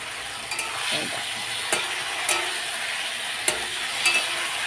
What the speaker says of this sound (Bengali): আমি ফুলকপিগুলো দিয়ে দিলাম, দিয়ে এখন ভালো করে কষিয়ে নেব